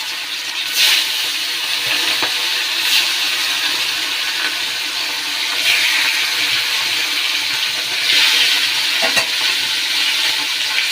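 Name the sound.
fish frying in hot oil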